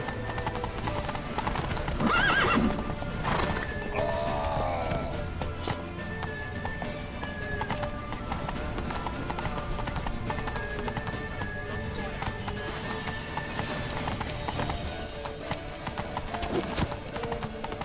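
Horse hooves clip-clop at a gallop with a loud neigh early on, set in The Witcher 3 video game amid battle noise, music and shouting voices.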